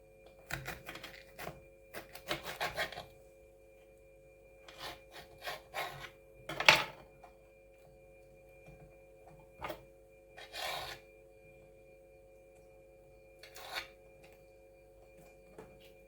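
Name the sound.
cutting the ribs out of cabbage leaves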